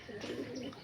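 Very young pigeon chicks of a Panjabi Malwai breed, eyes not yet open, make a brief soft cooing burble close by, lasting under a second.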